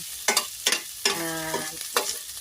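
Ginger and onion sautéing in a pan for sautéed mung beans, with a few sharp scraping stirs of a utensil over a soft sizzle and one brief tonal scrape in the middle.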